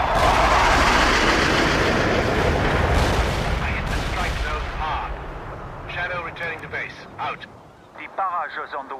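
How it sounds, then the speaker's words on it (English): An artillery barrage in the real-time strategy game World in Conflict, a loud rumbling roar of continuous shelling that slowly fades, with a voice speaking over the tail end. "barrage is on the way."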